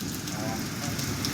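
Steady rain in Ahmedabad pours down as a dense, loud, continuous hiss on surfaces, with no break through the short stretch.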